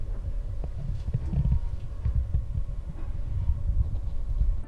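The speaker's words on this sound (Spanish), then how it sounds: "se nota cómo es que suena el ventilador" Replacement cooling fan running inside a Godox SL60W LED video light, a steady low hum with faint throbbing pulses, continuous and close, with no talk over it.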